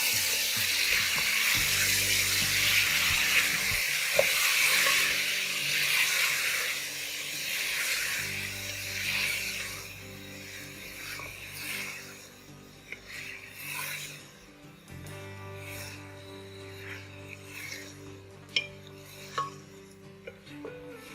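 Potato pieces frying in a pan for a dhaba-style aloo anday dish, a steady broadband sizzle and hiss that continues throughout, with occasional utensil clinks and stirring scrapes up close.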